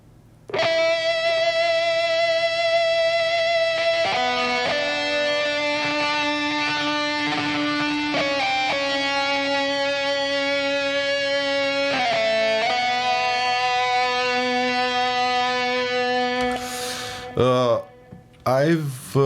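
An electric guitar through a wah pedal plays a sustained, filtered metal melody with a nasal tone, long held notes changing pitch every few seconds, loud and steady, ending abruptly.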